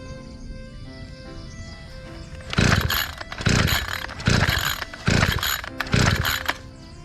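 A grass cutter engine is cranked with its pull starter, five loud rasping pulls in a steady rhythm, each a short whirring burst that never catches into running, close by after a quieter stretch of background noise.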